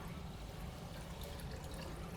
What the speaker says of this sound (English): So the first thing we're going to do is pour this in.